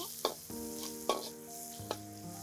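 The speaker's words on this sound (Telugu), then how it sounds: "ఉల్లిపాయ పచ్చిమిరపకాయలు వేసేసుకుని బాగా వేపేసి చాలా తొందరగా వేపేసుకుందాం" Onions and green chillies frying in a pan for squid pulao, with a steady sizzle broken by three distinct stirring scrapes, close and moderately quiet.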